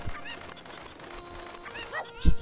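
Cucco chickens squawk and cluck in the video game Zelda Ocarina of Time, several short honking calls in quick succession with a louder thump near the end.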